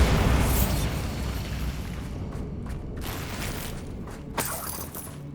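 Bombarda spell explosion in the video game Hogwarts Legacy: a loud burst at the start that rumbles and fades, followed by a few smaller crackling pops and a brief sharp blast near the end.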